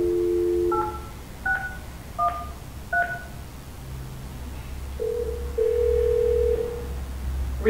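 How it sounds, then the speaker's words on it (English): A Yealink T48G VoIP SIP phone sounds a dial tone, then a series of short keypad dialing beeps, followed by a longer steady tone, all clear and close. "To make a call, activate your account and dial the number."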